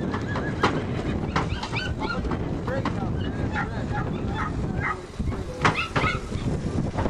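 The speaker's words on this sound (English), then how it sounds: "Here's the last of the horses." Horses at a ranch during the 2007 Santiago Fire evacuation, neighing and whinnying amid hoof movement and gusty wind noise, with people talking over the scene.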